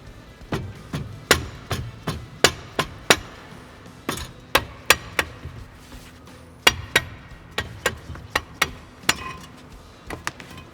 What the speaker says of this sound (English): we might have to give it a friendly little tap with the hammer